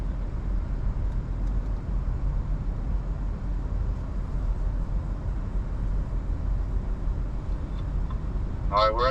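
Off-road car engine crawling slowly up a hill on smooth, steady throttle, a continuous low rumble holding level throughout, with a brief higher-pitched squeal at the very end.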